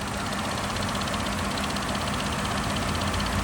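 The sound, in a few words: Cadillac V8 engine idling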